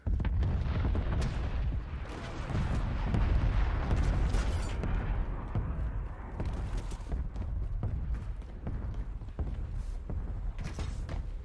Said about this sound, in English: Anderson requesting LDBR fire mission